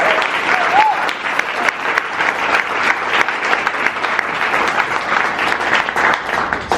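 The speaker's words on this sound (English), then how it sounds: "Give them all a round of applause." An audience at a musical's press launch at The Lowry breaks into vigorous applause, thick rapid clapping that continues at full strength from start to finish.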